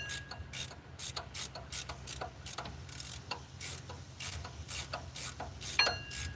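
A ratchet wrench clicks in quick bursts as it turns a loose bolt, the sharp pawl ticks coming in irregular runs with short pauses over a low steady hum, close and moderately loud.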